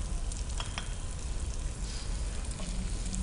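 Garlic, ginger and curry leaves frying in hot oil, a steady close sizzle with crackling pops throughout, loud and alone without talk.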